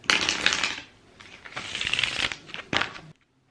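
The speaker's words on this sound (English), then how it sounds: "I personally like to just randomly shuffle them" Tarot cards being shuffled close up in three quick riffling bursts, with short pauses between, ending in a sudden stop.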